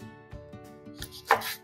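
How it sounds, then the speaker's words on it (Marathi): A knife chops seedless red chilli skins on a board for pickle, a few sharp, close taps spaced unevenly, ending in a louder cut, with no talking. "अशा मिरच्या कापून घेऊया"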